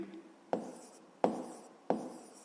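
Pen writing on paper while working a fifth-grade math exercise: three quick scratchy strokes come at regular intervals, close and quiet, with no voices.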